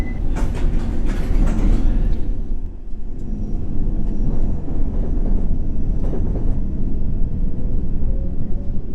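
Circle Line London Underground train in World of Subways rumbles steadily, with clattering wheel noise and rolling low drone, alone and fairly loud throughout.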